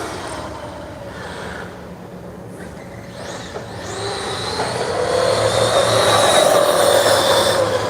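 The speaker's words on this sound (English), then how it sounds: "Yeah, this truck's moving good." An RC truck drives along with a whining motor that rises in pitch and grows louder partway through, close and steady.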